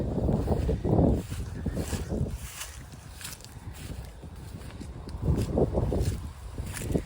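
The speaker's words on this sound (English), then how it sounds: "a very cold, windy day today. Winter is coming." Gusty wind buffets the microphone in low rumbling bursts, swelling and easing over several seconds outdoors on a cold day at Onoke Scenic Reserve.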